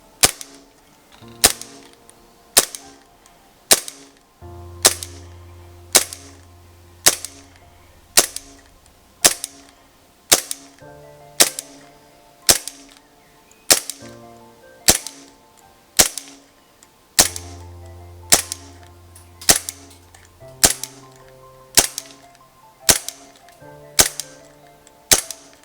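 A WE M92 gas blowback airsoft pistol fires a long series of sharp, evenly spaced shots at close range, each crack followed by a brief ring. Faint low tones sit under some of the shots.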